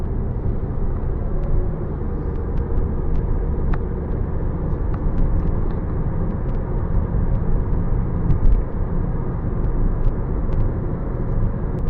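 A 2013 Kia Soul drives a twisty road, heard from inside as a steady low engine and road rumble, with faint ticks over the hum and no talking.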